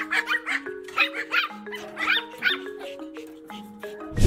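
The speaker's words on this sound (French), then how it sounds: "des chiens qui aboient du matin au soir" A dog barks and yips repeatedly in a fast, irregular series of close, loud barks, some sounding whiny, with no talk.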